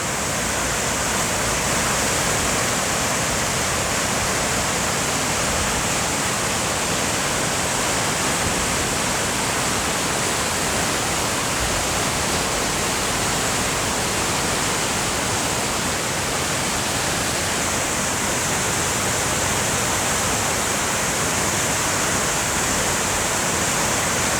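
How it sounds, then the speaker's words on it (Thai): Waterfall on the Dalälven river at Laxön, Sweden, roaring as a steady, loud, broadband rush of falling water that holds unbroken throughout, with no voices. "นี่คือน้ำตกสวีเดนนะคะ"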